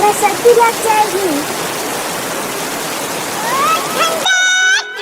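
Heavy rain pouring down in a continuous hiss like running water, with children's voices over it early on, cut short by a sudden jingle near the end.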